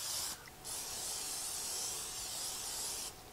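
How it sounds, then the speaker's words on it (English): Cooking spray hisses in steady bursts as it coats the inside of a crock pot, with a brief pause near the start, close and fairly quiet with no talking. "We're going to spray the inside of our crock pot"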